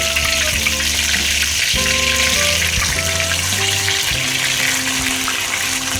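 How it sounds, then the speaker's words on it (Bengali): Ginger-garlic paste frying in oil in a pan with panch phoron and dried red chillies, for a fish-head mixed vegetable curry: a steady, loud, close sizzle that runs unbroken with no talking. "আদা রসুন ততক্ষণই ভাজবো যতক্ষণ ওই কাঁচা গন্ধটা চলে যাবে"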